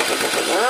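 Power tool loosening 12 mm brake caliper bolts on an Apache RTR 160 front disc brake, a brief loud whirring spin that rises in pitch toward the end.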